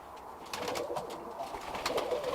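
Birmingham Roller breeder pigeons cooing softly in a loft, a few low, gentle coos repeating close by over quiet background.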